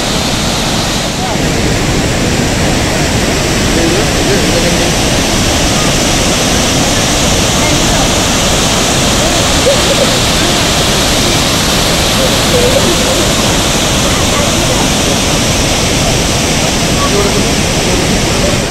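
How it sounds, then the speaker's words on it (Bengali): The Shivasamudram waterfalls give a constant, loud, broad roar of rushing water that fills the whole stretch without letup. "এই পুরো ভিউটাতে খালি ওয়াটারফলেই ওয়াটারফল।"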